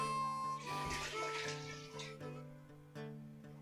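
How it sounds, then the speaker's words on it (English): Ham broth pours into a cooking pot for a seafood gumbo, a faint, brief gush of liquid under a steady background hum, with no talking. "Here's 5 more cups of ham broth."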